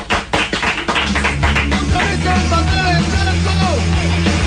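Studio applause for a guest on a Cadena 100 radio broadcast in 2000: a short burst of clapping at the start, quickly giving way to a music jingle that carries on.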